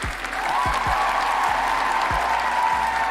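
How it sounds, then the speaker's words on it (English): Podcast audience applauding for a guest named Kali, a dense continuous patter of clapping at even loudness throughout, with soft low thumps and a faint tone underneath. "If you give me a round of applause for Kali though, right there"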